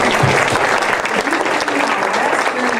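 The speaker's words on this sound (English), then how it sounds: "Can we please give her a round of applause?" An audience gives a warm round of applause, continuous clapping from many people filling the room at full volume.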